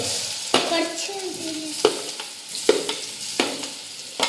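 Nendran bananas sautéing in ghee in a pan, a steady close sizzle broken by several sharp stirring scrapes and clinks spaced through the clip, no voices.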